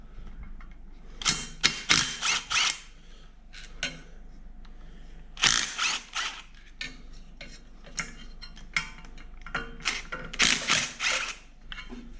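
Ratcheting wrench clicks in quick bursts as bolts are loosened to free the plastic engine fan on a 12-valve truck engine during disassembly, close and fairly loud with pauses between runs.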